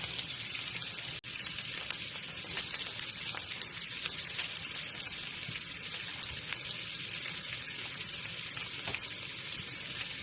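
Onions sizzling in olive oil in a pan as they caramelize, a steady, even hiss with faint crackles and pops running throughout at moderate level.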